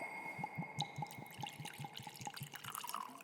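Weller's bourbon glugs from the bottle into a glass in a quick run of close, rhythmic drips and splashes over a faint steady hum, with no talk.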